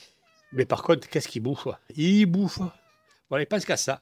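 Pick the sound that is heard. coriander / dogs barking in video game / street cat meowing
street cat meowing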